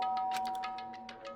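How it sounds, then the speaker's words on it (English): A doorbell chime in the video game Danganronpa rings out as a rapid series of bright, clear ding tones over a steady electronic hum, fairly close and moderately loud, with no talking. "pressed the doorbell"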